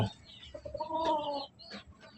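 Rubio Gold gamefowl rooster clucking in a backyard, a short series of close, soft clucks and one drawn-out call, with no talk.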